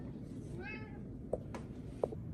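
A domestic cat meows once, a short rising-falling call, followed by a few faint clicks and knocks in a quiet indoor room.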